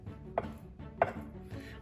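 A knife cutting fat off deboned chicken thighs on a board, two sharp, close chops about half a second apart, then softer slicing sounds.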